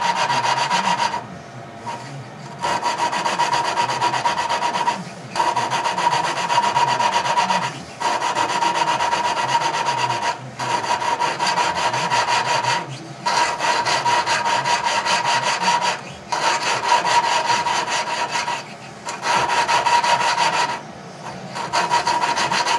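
A steady abrasive grinding rub as an engine valve is lapped onto its seat on a Tecumseh engine, repeated in strokes of several seconds each, separated by brief pauses as the tool is lifted and set back down.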